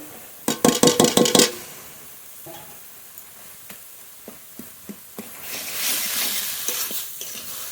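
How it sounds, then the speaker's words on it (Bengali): Cleaned tilapia pieces with the head left whole hit hot oil in a pan with a quick burst of loud crackling spatters, then settle into a softer, lower sizzle broken by occasional light knocks. "ঢাকনা তুলে নেব কাটা ছাড়ানো তেলাপিয়া মাছ দেবো মাথাটা আস্তই রেখে দেবো"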